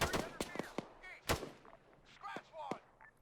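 Enemy gunfire in the military shooter game Arma 3, a scatter of sharp, fairly distant shots cracking singly and in short bursts, with faint voices mixed in.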